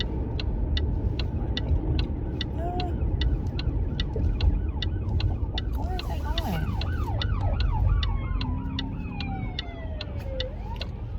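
Emergency vehicles weaving through traffic with sirens wailing and yelping repeatedly, rising and falling over steady road noise and a rhythmic ticking, while people talk in the car.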